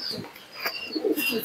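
Giribaz pigeons coo close by in short rolling phrases with a few brighter chirps, the calls rising and falling unevenly and no voice over them.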